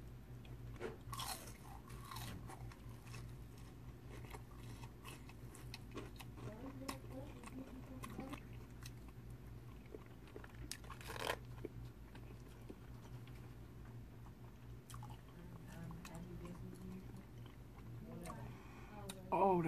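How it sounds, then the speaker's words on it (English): Crunching bites into crispy fried fish, a few crisp chews scattered over steady low background hum, with voices talking nearby. "Did y'all hear that crunch?"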